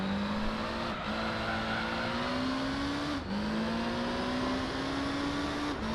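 Race car engines in Gran Turismo 3 on Special Stage Route 11 endurance, a steady loud drone with rising pitch through gears, cutting off and climbing again at each shift, three shift dips in a row.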